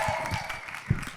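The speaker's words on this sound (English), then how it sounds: "Applause for our comedians." Audience applause for comedians at a live comedy show, a short burst of steady clapping from the crowd with a slight tonal hum running underneath.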